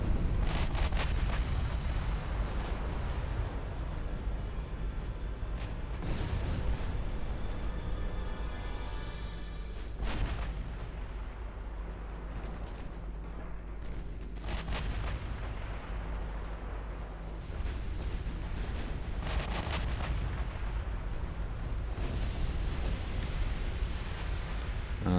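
Naval gunfire pounds a destroyer in the Ultimate Admiral Dreadnoughts naval battle, a continuous roar of deep booms and rumbling explosions layered thickly over 25 seconds, with several louder bursts standing out.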